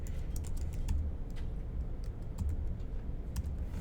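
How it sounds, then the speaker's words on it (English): Fingers type code on a computer keyboard in a quick, irregular patter of soft clicking keystrokes, close and fairly quiet, with no voices. "we just type in the word var"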